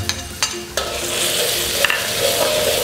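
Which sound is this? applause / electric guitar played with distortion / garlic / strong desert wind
garlic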